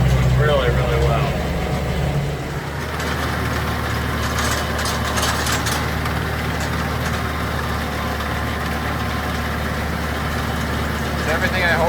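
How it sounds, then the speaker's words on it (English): A 70 horsepower tractor towing a Vermeer 504 baler on a small New Hampshire hay farm runs with a steady, low, continuous engine drone, close and loud. Someone talks over it throughout. "It tows really well behind the 70 horse tractor"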